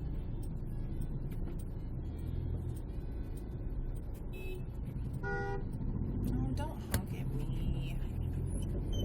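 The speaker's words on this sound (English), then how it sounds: "Bus." Bus rolling through busy weekday morning traffic on a road near Gandhi Chowk, engine rumble constant under the street noise, with a few short horn toots around the middle and faint voices.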